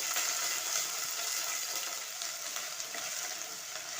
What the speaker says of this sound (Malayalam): എന്നിട്ട് ഈ എണ്ണയിൽ ഈ വെണ്ടയ്ക്ക നന്നായിട്ടൊന്ന് ഫ്രൈ ചെയ്തെടുക്കണം.